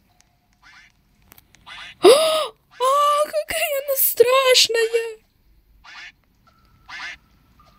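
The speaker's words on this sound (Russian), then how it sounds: "Остерегайтесь утки." Duck quacking in the Roblox video game, several drawn-out nasal calls in bursts over a few seconds, with a girl's frightened exclamations mixed in between.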